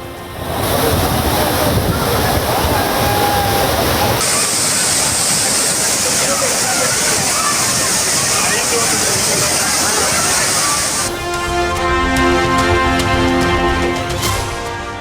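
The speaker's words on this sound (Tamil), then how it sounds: "குற்றாலம் அருவிகளில் நீர்வரத்து சீரானதால் குளிக்க அனுமதி." Water pours steadily down the Courtallam waterfalls, a loud, continuous broadband rush of falling water that changes character partway through, with music-like tonal layers entering near the end.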